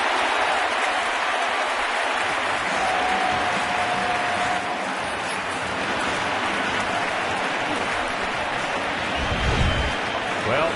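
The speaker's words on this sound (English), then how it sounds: "They erupted when he got this hit right up the middle." A baseball stadium crowd erupts in sustained, dense cheering and applause after a Yankees base hit up the middle during an ALCS playoff game, a continuous roar filling the whole stretch.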